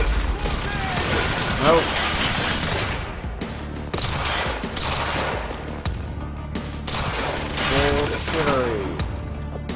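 Rapid, sustained gunfire from the video game Quantum Break: dense automatic bursts and overlapping shots fill the scene almost continuously, with someone talking briefly over the shooting.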